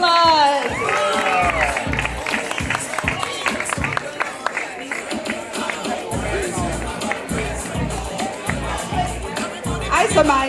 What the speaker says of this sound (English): Let's give Tyler a round of applause.